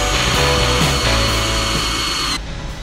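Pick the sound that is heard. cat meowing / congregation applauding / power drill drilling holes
power drill drilling holes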